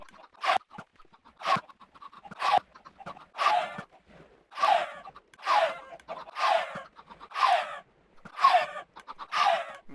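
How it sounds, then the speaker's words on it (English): Chickens in the Minecraft video game cluck in a steady series of short bursts, roughly one each second, loud and close with no other sounds. "Poor little chickens."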